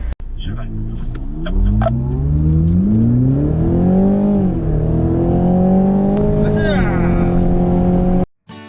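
A BMW Z4 sDrive20i accelerates hard on a race circuit at a driving center, its engine note climbing loud and close through the gears with brief dips between shifts, before cutting off abruptly.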